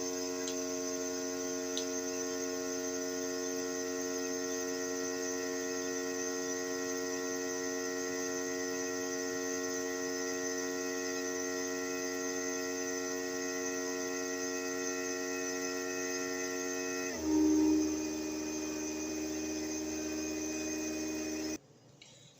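A FoodSaver vacuum sealer pulls air from a bag of pork chops, a steady close mechanical hum with a tonal whine that shifts pitch near the end, then cuts off abruptly.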